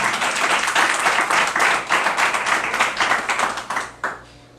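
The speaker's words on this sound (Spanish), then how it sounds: "Si va a aplaudir al Rey, hágalo con fuerzas." A church congregation claps vigorously during a sermon, a close, loud burst of many hands that swells and pulses before quickly tapering off to a few last claps.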